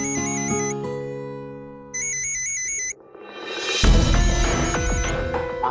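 A mobile phone ringtone rings in repeated melodic bursts, loud and close in an indoor domestic scene, then gives way to rising background music and rumble near the end.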